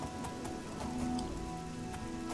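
Steady rain falls at night in the video game Elder Scrolls Oblivion, a continuous soft patter of drops on surfaces with a faint tone running underneath, no talk.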